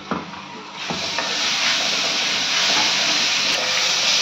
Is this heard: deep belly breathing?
no